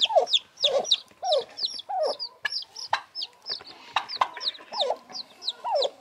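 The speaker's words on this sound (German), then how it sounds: "So viele kleine Küken." Hens clucking among many small chicks, a busy run of close, rhythmic clucks and soft peeping calls overlapping one another with no talk.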